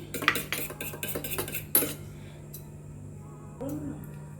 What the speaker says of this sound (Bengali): নুন দিয়ে স্পুন দিয়ে ভালো করে ডিমটাকে ফেটিয়ে নেব